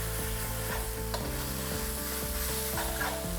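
Prawns fry in a hot pan for pad thai, a constant loud sizzle close by with repeated scraping strokes of stirring running through it.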